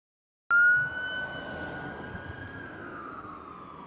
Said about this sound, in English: This ambulance is on an emergency run in Lowndes County, Alabama